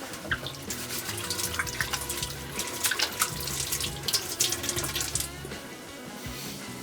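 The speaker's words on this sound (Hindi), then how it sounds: "हाथ धो लेते हैं।" Tap water running into a sink while hands are washed, a steady close stream with irregular splashes and rubbing bursts, then tapering off, no voices.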